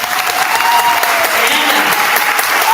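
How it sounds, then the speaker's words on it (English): Loud, dense audience applause for graduating students at a spring symphonette concert, a sustained roar of many hands clapping close by, with faint cheers and a held tone weaving through. "Let's give them a round of applause."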